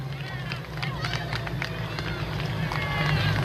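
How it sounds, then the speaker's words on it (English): Crowd noise from spectators in a Rouvy virtual cycling race game, a hill climb on the Puerto de Hazallanas, heard as a steady murmur and cheer under a commentator's ongoing talk. "And a very appreciative crowd."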